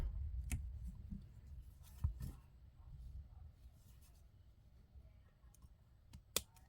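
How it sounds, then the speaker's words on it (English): Wire cutters snip jewelry wire while a beaded long necklace is made, giving a few sharp, faint clicks close by against a quiet background, the last one more distinct. "And now that it's around the back, I'll snip it off."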